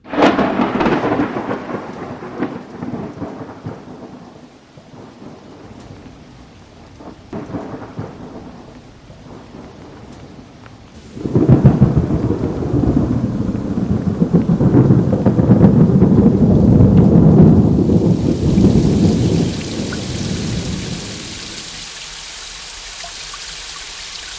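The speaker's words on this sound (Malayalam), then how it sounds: "മഴ പെയ്തത്." A thunderstorm with heavy rain: steady loud downpour and rumbling thunder, easing then surging into a stronger roar of rain partway through, with no voices.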